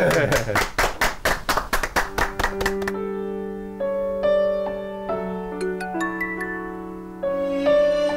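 Brisk rhythmic clapping for about three seconds, then it stops and sustained music begins.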